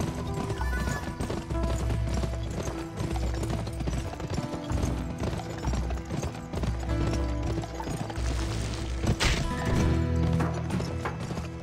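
Rapid clip-clop of galloping hooves during a horse race in the game GUN, loud and continuous, layered with a busy game soundtrack and mechanical clacks.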